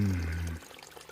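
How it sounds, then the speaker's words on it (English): Spring water pours into a water bottle on the Appalachian Trail, a steady close gurgling fill lasting about half a second before stopping abruptly into faint trickles and quiet. "here's my spring right here. I'm gonna fill up with water,"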